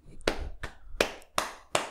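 Five sharp, close hand claps ring out at a slow, slightly uneven pace in a quiet podcast setting, each one crisp and standing alone.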